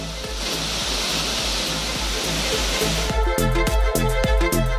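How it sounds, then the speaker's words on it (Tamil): A flooded waterfall at Thirparappu falls in Kanniyakumari district roars with a loud, steady rush of gushing water, a dense continuous wash that carries on alone with no voices. "கன்னியாகுமரி மாவட்டம் திருப்பரப்பு அருவியில் வெள்ளம் ஆர்ப்பரித்து கொட்டுவதால்"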